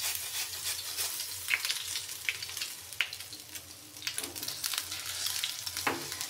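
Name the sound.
green chillies and cumin sautéing in hot oil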